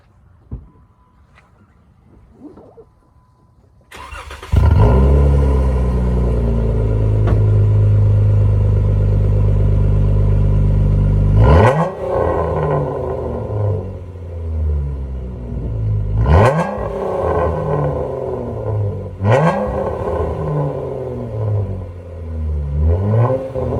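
A modified Jeep Wrangler cold-starts, cranking and firing up to a loud, rumbling idle close by, followed by several sharp revs that rise and fall back to a throaty exhaust burble.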